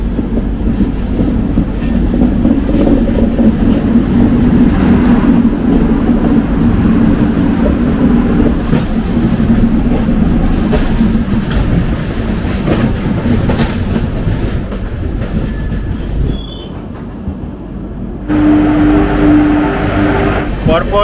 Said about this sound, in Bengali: পরপর টানেল পার করছে ট্রেন